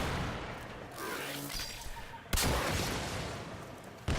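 The Lenz bow fires in the Warframe video game, a heavy explosive blast rumbling through the mix, with a sharp second impact bursting in near the end.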